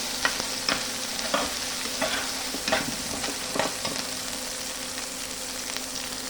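Dried fish fries in a pan with a steady sizzle, broken by sharp scraping stir strokes at irregular intervals. It is close up, with no talking.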